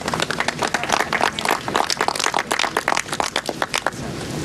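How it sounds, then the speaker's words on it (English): Spectators at an LPGA golf tournament in the Bahamas give a scattered, slightly delayed round of clapping, a steady patter of many hands lasting several seconds and tapering off at the end. "That was a delayed golf clap"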